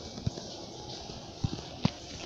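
Horse hooves clip-clop in a video game, coming as a few separate soft thuds spread apart over faint background hum, with no talk.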